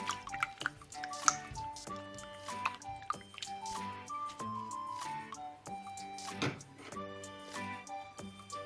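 Shrimp rinsed in water in a kitchen while making a Thai egg-coated shrimp dish, with close drips, splashes and squishy handling noises in an uneven run alongside faint clinks.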